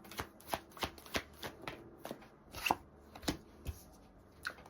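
Tarot cards being shuffled by hand, a steady run of crisp riffling slaps and flicks, close and fairly loud, with no talking.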